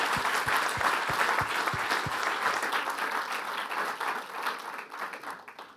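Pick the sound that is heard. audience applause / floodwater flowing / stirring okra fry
audience applause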